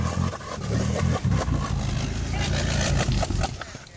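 A quad bike engine idling and revving with its exhaust submerged in pond mud, a rough close-up throaty rumble with irregular surges and clattering, steady throughout without clear speech.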